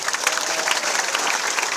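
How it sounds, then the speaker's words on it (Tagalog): Brief burst of crowd applause at an AIM Global seminar as one speaker steps down; thick, steady clapping from many hands, loud and close throughout. "Tuloy niyo po yung palakpak."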